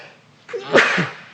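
One loud, close sneeze with a quick inhale before it and a short trailing breath, heard on its own.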